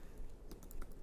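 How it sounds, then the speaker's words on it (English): Soft keystrokes tap on a computer keyboard, a short quiet cluster of clicks close by with a low background hum. "We're going to just type in up here,"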